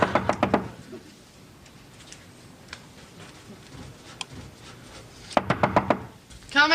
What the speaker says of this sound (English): there's somebody knocking on the door in the middle of the night